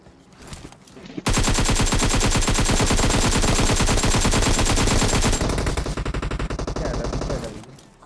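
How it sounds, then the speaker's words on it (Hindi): Sustained automatic gunfire aimed at a buggy in the mobile game PUBG Mobile, a loud, dense rattle of rapid shots running continuously for several seconds before tapering off with a few trailing bursts. "गोली बुरी तरह चलाते बग्गी वाले पे"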